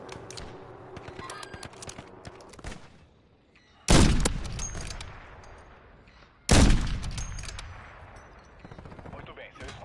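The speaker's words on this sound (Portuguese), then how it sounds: "Olha um tiro aqui nesse cara aí." Two sharp, loud video game gunshot blasts ring out a few seconds apart, each with a booming echo that fades, over a low layer of in-game background noise.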